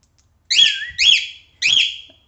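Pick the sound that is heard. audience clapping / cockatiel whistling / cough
cockatiel whistling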